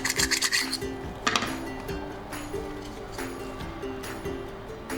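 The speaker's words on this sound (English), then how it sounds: "Using the spatula, let's scrape the scallop off from the shell." Spatula scraping a raw scallop off its shell during sashimi preparation, a few short rasping scrapes near at hand, loudest at the start, over a faint background hum.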